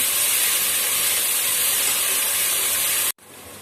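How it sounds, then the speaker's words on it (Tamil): Onions sautéing hard in a hot pan for fish biryani, a loud, steady broadband hiss and sizzle that runs unbroken for about three seconds, then cuts off abruptly and returns at a lower level. "வெங்காயம் நல்லா வதங்கணும்"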